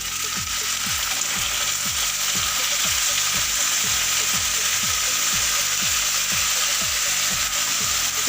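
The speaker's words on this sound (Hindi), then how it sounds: "भिंडियों को फ्राई होते हुए तकरीबन 6 से 7 मिनट हो चुके हैं" Okra for a bhindi masala fries in a pan with a loud, even hiss that never lets up. A regular low rhythmic scraping or ticking, about twice per second, runs underneath it. No voices.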